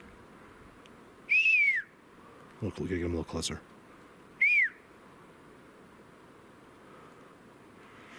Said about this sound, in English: Here's the whistles.